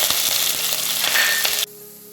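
Fenugreek seeds and green chilies hit hot oil with mustard seeds, giving a close, steady crackling sizzle that holds for most of the moment, then cuts off abruptly into a quiet low hum.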